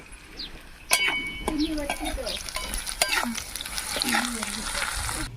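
Onions frying for a village-style onion chutney, sizzling steadily in a pan with spoon scrapes and a few light metallic clinks, close up; a voice may be faintly present.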